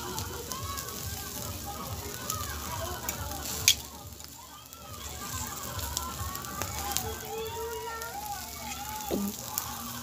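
Barbecue skewers and fish sizzling and crackling over a hot grill, a steady soft hiss with occasional pops, someone talking over it and background chatter.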